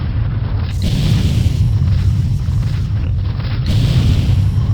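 The capital ship Hades explodes in the space combat game FreeSpace, a loud, sustained rumbling boom that swells in waves and stays close and heavy throughout.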